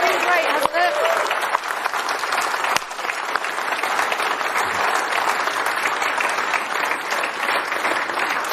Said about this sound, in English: let's just have another cheer and let's get into the spirit of this.